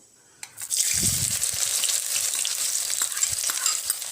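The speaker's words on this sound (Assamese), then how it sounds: "এতিয়া পিয়াজখিনি মোৰ ভাজি হৈ গৈছে" Onions sizzle steadily in hot mustard oil, a loud continuous crackling hiss that starts with a sharp splash as they hit the pan.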